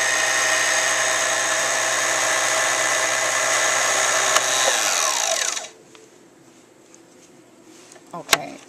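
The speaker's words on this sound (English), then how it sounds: "Now we're going to wind the bobbin." A Pfaff Select 150 Anniversary Edition sewing machine winds a bobbin with a loud, steady high-pitched whirring hum for about five seconds, then winds down and stops, leaving quiet room sound and a brief click near the end.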